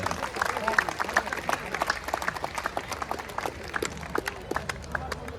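Distributors in an audience clap together at a My Lifestyle business gathering in Digha, a dense, steady patter of many hands with scattered louder claps throughout.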